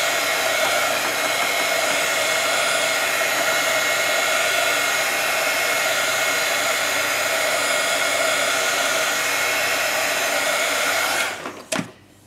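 A handheld dryer blows a loud, constant whoosh over misted ink on an art journal page, running nearly twelve seconds before switching off with a short click.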